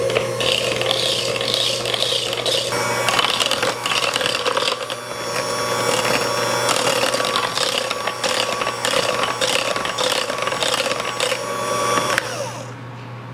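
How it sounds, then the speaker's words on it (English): Electric mixer blending banana cookie dough with sugar, a loud steady whirring hum with rattling beater clatter that runs continuously and stops near the end. "I'll blend this all together."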